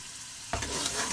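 Ground garlic ginger paste dropped into a pan of frying onions for a homemade goat curry, bursting into a loud, close sizzle after a quieter half-second of low frying.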